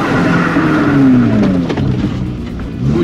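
A modified Suzuki Swift race car launching from the start, a loud close engine rising in pitch and then settling into a steady rumble, with no talking.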